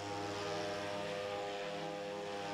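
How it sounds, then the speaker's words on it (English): A two-stroke engine drives a motorized speed skate, producing a loud, steady, buzzing drone with strong harmonic tones that holds constant throughout. "adds noise and two-stroke fumes to literally blow its operator along"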